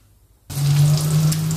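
Chicken frying in a home kitchen pan begins suddenly after a moment of silence, settling into a steady, close sizzle with faint crackles and no talking over it.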